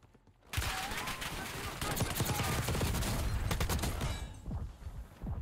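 Gunfire in the Warzone video game, with a player being shot in the back. After a quiet start comes a dense, close burst of rapid shots lasting several seconds, then fading into scattered impacts and softer sounds.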